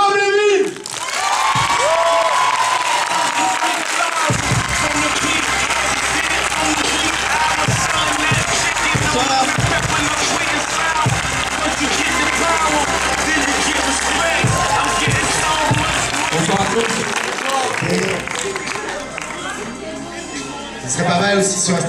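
An audience at the film premiere of Gangsterdam bursts into loud, sustained applause and cheering that fills most of the stretch, with a voice speaking over the crowd at the start.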